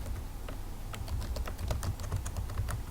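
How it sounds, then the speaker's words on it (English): Someone types on a computer keyboard, a steady run of quick, close-up key clicks with uneven spacing and no voices. "let's type the title of the essay"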